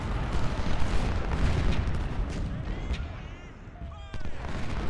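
Cannon artillery fires in the Ultimate General: Civil War video game as a rumbling, continuous battle din of booming shots over the Gettysburg battlefield, with faint shouting voices near the end.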